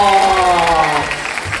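A studio audience claps briefly for guests on a Japanese variety program, a short burst of applause under a speaking voice that quickly fades.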